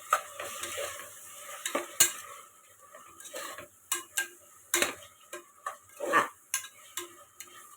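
Tomatoes with salt and turmeric sauté in a pan, with soft sizzling under scattered spoon-stirring clinks and scrapes against the pan, irregular and fairly close.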